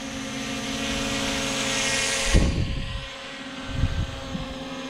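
A Holy Stone HS720 drone flies nearby with a steady high propeller whine and hum, the tone shifting as it maneuvers, with some low thumps partway through.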